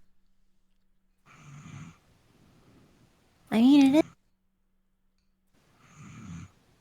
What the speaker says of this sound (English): Should we let her just be here and snore all day?